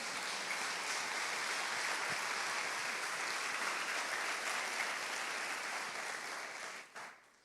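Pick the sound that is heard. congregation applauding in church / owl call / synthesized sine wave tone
congregation applauding in church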